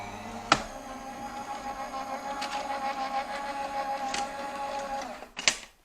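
A Gemini Junior embossing machine runs with a steady motorized whir and hum, set off and ended by sharp clicks and clunks, close by.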